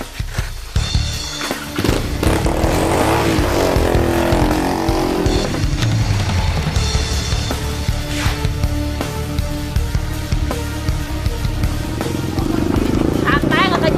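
Motorcycles roar through a chase scene in an Indonesian TV drama, engines revving loud and close with shifting pitch, while people shout and talk over them throughout.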